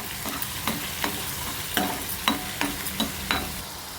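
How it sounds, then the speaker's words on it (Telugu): Grated pumpkin frying in ghee for pumpkin halwa, stirred with regular scraping strokes about every half second over a constant sizzling hiss. "ఒక ఐదు నిమిషాల పాటు బాగా వేయించుకోండి ఈ ఆయిల్ ఇందులో అబ్జర్వ్ అయ్యేంత వరకు వేయించుకోండి"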